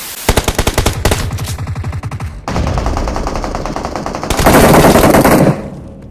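Gunfire in BGMI, the mobile battle royale game, with loud, rapid automatic bursts up close, a short pause, then sustained heavy firing that cuts off abruptly.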